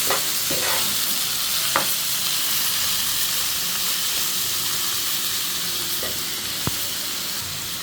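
Bitter gourd and potato frying with onion and green chilli in oil, a loud, steady close-up sizzle and hiss with occasional sharp clinks of a utensil against the pan.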